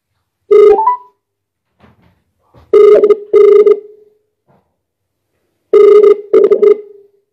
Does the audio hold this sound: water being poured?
no